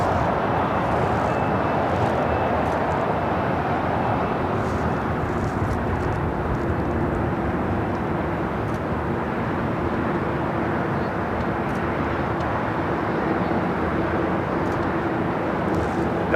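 A heavy jet takes off at LAX, a loud continuous broadband engine roar that holds steady throughout without any break.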